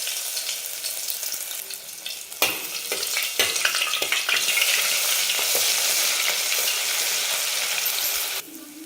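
Half a spoon of ginger garlic paste hits hot oil in a pot for a mutton rassa, erupting into a loud, steady sizzle with stirring scrapes that runs for several seconds before cutting off.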